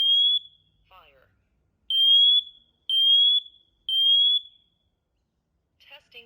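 A TREATLIFE smoke and CO alarm runs a smoke test, giving a shrill high-pitched beep, a brief synthetic voice, then three more evenly spaced loud beeps about a second apart, close by, ending with a short electronic voice fragment.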